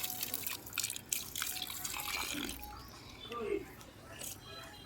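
Water is poured onto potted plants with irregular splashing and trickling close by, and a voice speaks at moments over the pouring.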